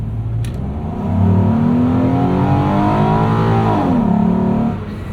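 A Ford 3.7-liter V6 in a 2016 Mobility Ventures MV1 revs up steadily, its pitch rising smoothly before dropping back, heard close and loud on its own.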